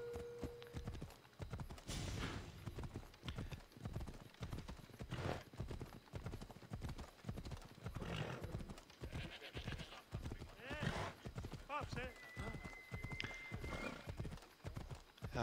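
Horse hooves clip-clop in a steady, brisk rhythm while riding in Assassin's Creed Odyssey, loud and close throughout, with a brief whinny and game ambience in the background.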